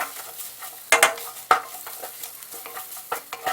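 Tomato paste and chopped tomatoes are stirred in a pot over low heat for minestrone soup, with soft sizzling and several scraping spoon strokes against the pot, close and fairly quiet.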